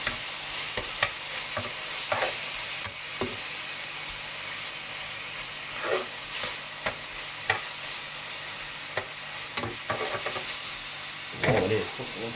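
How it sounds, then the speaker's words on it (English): Steak browns in a hot pan with a constant loud sizzle and hiss, punctuated by scattered clicks and scrapes from turning and utensils. "Got this ready to put my steak into for when I then brown the meat."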